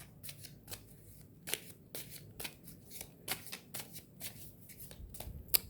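Tarot cards shuffled by hand in a quiet room, a series of short, crisp riffling bursts repeating irregularly, fairly close and with no talk.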